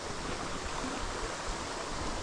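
Waterfall in a forest at Craik, a constant broadband rush of falling water that stays even and fairly close, with no voices.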